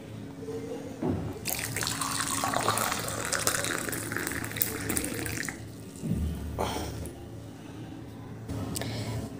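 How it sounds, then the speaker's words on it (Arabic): Hot water is poured over three juniper berries, a steady, close splashing stream that pauses briefly around the middle, then resumes and trails off with lighter trickling. "زي ما انتوا شايفين اهو 3 حبات هننزل عليهم بميه سخنه"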